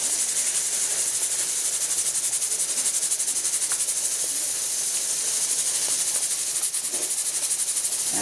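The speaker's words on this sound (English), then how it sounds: "Mix well and let it fry there." Lamb brain and boiled grain frying in a pan of masala, a steady bright sizzling hiss that stays even throughout with faint crackles and no talking.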